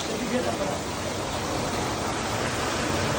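Heavy rain pouring down at a hill temple, a dense, loud, unbroken wash of noise throughout with no distinct drops or voices standing out.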